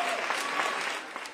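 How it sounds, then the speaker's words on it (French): A crowd forming an honor guard applauds public hospital department heads who are resigning from their administrative duties, a brief, even burst of many hands clapping that tapers slightly at the end. "Une haie d'honneur sous les applaudissements pour ces chefs de service à l'hôpital public."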